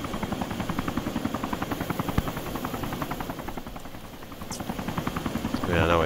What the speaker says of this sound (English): We're being chased by a helicopter.